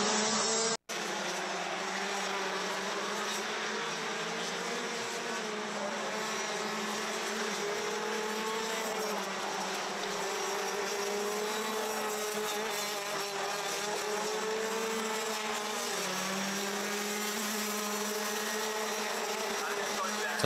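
Racing karts at the Kerpen circuit in Germany, a Masters race, driving through sweeping S-bends, give off a continuous buzzing, revving engine drone that rises and falls for about twenty seconds. No one speaks.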